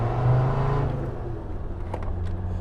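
A Land Rover Defender 90's TD5 diesel engine rumbles nearby, with a low throaty drone that eases slightly after a brief rev.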